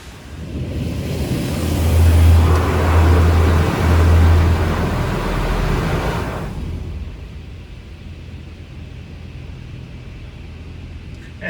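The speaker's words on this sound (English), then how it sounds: "Doesn't use brushes, just high pressure wash." A touchless car wash blasts high-pressure water over an old white vehicle, a loud, steady hissing roar for about six seconds that drops to a quieter spray and drip, with a low mechanical hum underneath.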